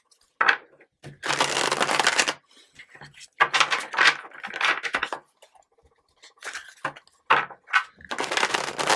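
A deck of tarot cards is shuffled close up in quick riffling bursts of crackling and slapping, separated by short silences.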